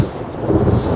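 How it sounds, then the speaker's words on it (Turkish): A thunderstorm in PUBG Mobile on the Erangel map gives a loud, low rumbling roar with some rain noise, lasting about a second. "bu fırtına sesi niye geliyor ya?"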